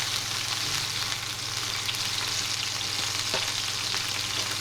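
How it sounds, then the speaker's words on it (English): Pork fillet medallions fry in a pan with a steady, close hiss and sizzle, broken by small crackles and spits of fat, with no talking over it. "Right, so we're frying our medallions."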